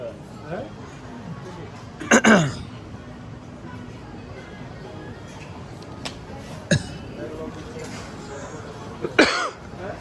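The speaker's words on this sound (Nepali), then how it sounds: "कस्तो खोकी लाग्यो त साथी हो" Three or four sharp, harsh coughs break out at irregular intervals, close by, in a shopping mall in Al Khor, Qatar, over a quiet background murmur.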